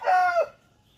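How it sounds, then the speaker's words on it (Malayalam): A chicken, the bird just let out to roam free, gives a single loud, close crowing-style call with clucking tones lasting about half a second, followed by near silence. "ഈ കോഴിയാണ് തുറന്നു വിട്ടത്"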